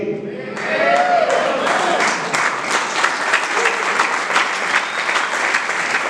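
Church congregation at a Spanish-language sermon applauds, with a brief voice at the start, then thick, continuous clapping that swells quickly and holds at full strength.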